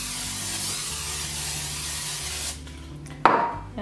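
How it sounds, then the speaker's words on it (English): A continuous hissing spray of cooking spray into a baking pan lasts a couple of seconds, followed by a sharp clatter of a pan being set down. "I'm going to just spray it with a little bit of cooking spray"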